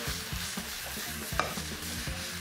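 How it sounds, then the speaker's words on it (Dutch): Sliced pointed cabbage sizzles in a hot pan over high heat, a steady close frying hiss with the scrape of stirring, no speech. "En dan hoor je eigenlijk nu al snel, die begint te sissen en dan ben je dus goed aan het bakken."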